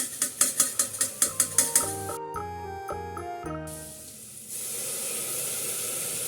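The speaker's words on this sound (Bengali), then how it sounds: "এই সময় আমরা যেটা করব সেটা হচ্ছে আদা রসুন বাটা হাফ টেবিল চামচ মতন দিয়ে দেবো।" Ginger garlic paste goes into a hot pan of onions for chicken polao. A run of quick metallic clinks and scrapes comes first, then a loud, steady hiss of frying sets in and continues close by.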